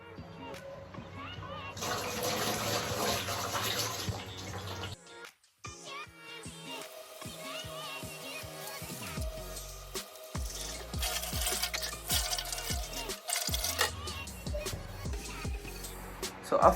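Hands are washed with soap and water at a tap during a bag technique demonstration, with running water splashing in bursts amid shifting background sounds and some voices.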